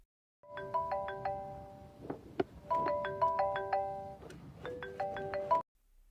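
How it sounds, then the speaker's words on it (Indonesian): A mobile phone rings with a bright, repeating electronic melody in several bursts, clear and near, with brief pauses and a soft clatter between phrases. "ponselnya berdering."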